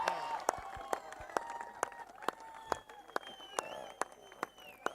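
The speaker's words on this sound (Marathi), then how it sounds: "अजय जाधव, टाळ्यांचा गजर त्याच्यासाठी होतोय" Sparse, sharp hand claps ring out in an even rhythm for the best batter's prize at a cricket tournament award ceremony, set against faint crowd murmur and sustained background tones.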